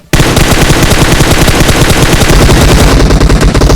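PUBG Mobile gunfire erupts suddenly into a loud, sustained automatic burst of rapid shots that stays dense and close for several seconds, with no talk.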